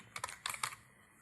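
Quick bursts of keystrokes on a computer keyboard while entering an address into a department dashboard form, a few close, crisp clicks in a short cluster before falling quiet.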